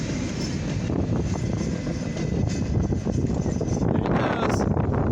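A CFE mixed freight train of steel cars rolls past a railroad crossing in Van Wert, Ohio, its last car going by with loud continuous wheel rumble and rattling on a windy afternoon, the noise steady throughout with a brief squeal near the end.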